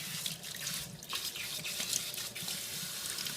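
Tap water runs steadily and splashes as a Yorkie is rinsed during a bath, a continuous close hiss of flowing, splattering water with no talk over it.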